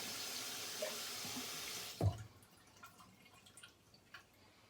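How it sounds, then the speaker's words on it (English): Water drips and trickles from a tap as a shaving brush is wetted, a soft steady running stream giving way to a quieter patter of scattered close drips. "So I'm gonna wet it again. So it's dripping wet"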